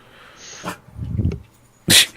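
A pet dog indoors, shut in a room while a mailman is at the door, gives a short whine, a low grumbling whimper and then a sharp bark, fairly close and moderately loud.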